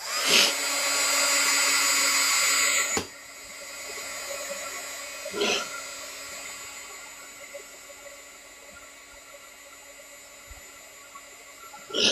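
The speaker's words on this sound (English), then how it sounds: "let me hit that with the dryer so you can see what it looks like dry" A handheld dryer whirs loudly for a few seconds drying metallic paint, stops with a click, then a steady electrical hum lingers with faint clicks.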